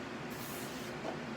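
A spray cleaner bottle releases a short burst of spray, a faint, breathy hiss lasting about a second with no voices.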